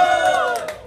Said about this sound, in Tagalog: Tingnan mo nga sigawan ng crowd